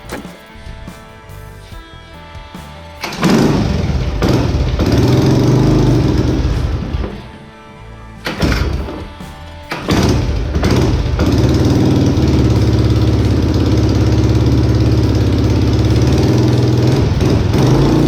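Trike engine fitted with a new carburetor, sputtering at first, then running loud and rough at idle, briefly dropping off before picking back up to a steady close roar.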